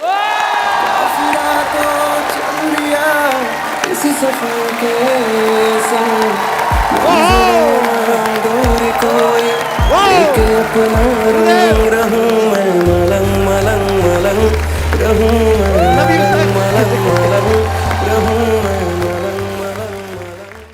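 A studio audience on a TV comedy show claps and cheers loudly for actor Anil Kapoor, sustained applause with whoops under a blaring musical fanfare and a heavy bass beat.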